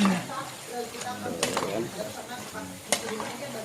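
Lumpia wrappers fry in hot oil, a continuous crackling sizzle with sharp bursts as they are stirred, heard close up while people talk over it.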